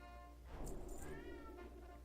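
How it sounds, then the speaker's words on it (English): A domestic cat meows indoors, a single drawn-out, tonal call near the microphone over a steady low hum, with no talking. "That's my cat, if you hear him."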